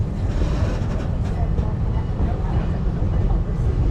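A theme park safari ride train rolls slowly toward its Congo station, giving a steady low rumble and rattle of moving cars throughout, with a narrator's voice over the noise.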